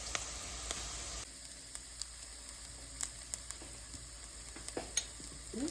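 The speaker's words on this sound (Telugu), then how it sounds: "సో ఆనియన్స్ అయితే మంచిగా రెడ్ కలర్లో ఫ్రై అయితే చికెన్ కర్రీ బాగుంటుంది" Onions for a chicken shorva fry on medium heat in a pan with a soft, continuous sizzle and occasional spatula taps and stirs, close but fairly quiet, with no speech.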